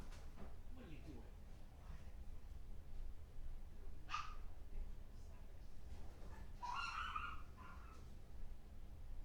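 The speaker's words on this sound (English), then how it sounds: "My little yappy dogs." Small yappy dogs bark in short bursts a few times, somewhat distant and muffled, with sparse sharp yips over a low steady background hum and faint voices nearby.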